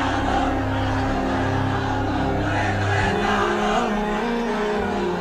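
A crowd at a Bangladeshi Islamic sermon gathering chants slogans together, a steady, loud mass of voices with amplified hum and reverberation running throughout.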